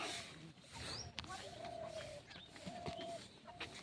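Village fowl and birds in a tribal hamlet in Birbhum give soft coos and clucks with a few brief chirps against quiet outdoor ambience, with faint voices in the distance.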